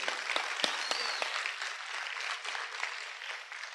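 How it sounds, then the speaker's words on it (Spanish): A church congregation applauds steadily, dense clapping with a few sharp individual claps standing out near the start, filling the whole stretch. "Denle un aplauso al Señor."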